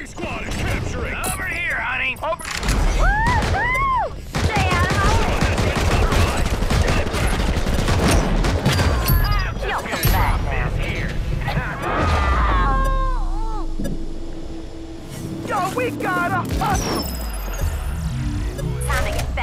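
Modern Combat Versus mobile shooter gameplay: bursts of gunfire, mechanical clatter and impacts mix with game voice lines and music in a dense, continuous battle soundscape.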